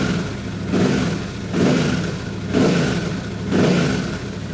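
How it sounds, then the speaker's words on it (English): A Yamaha Ténéré 700 motorcycle engine idles up close while warming up during an oil change, a loud steady rumble that swells and eases in slow, regular surges about every second. "So I'll just let that idle and cycle the oil through the engine for a little bit."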